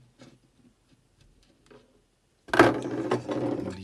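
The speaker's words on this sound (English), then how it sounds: "I'm starting with these corner ones first." A small screwdriver works corner screws out of a Facebook Portal, with faint scattered ticks at first, then a louder, close burst of ratcheting, clicking turns.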